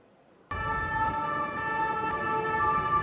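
Emergency vehicle siren on a Paris street starts abruptly and holds a steady, piercing two-tone wail over faint traffic rumble, fairly close and loud.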